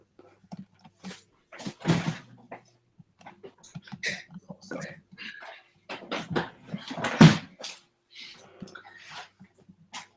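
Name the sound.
dog fighting with the neighbour's dog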